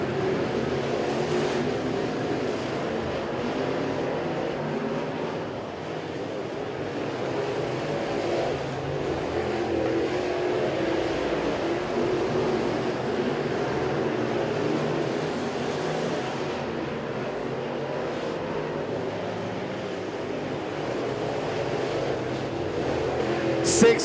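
Crate late model race cars run an eight-lap heat race at Crossville Speedway, their engines forming a continuous loud roar and drone under an announcer's voice throughout.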